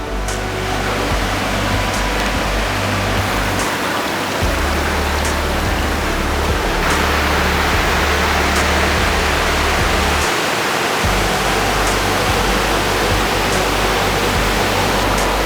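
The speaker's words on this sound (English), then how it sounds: "This waterfall is incredible." A secret waterfall near Perth roars as a constant, loud, dense rush of falling water that fills the whole stretch without a break.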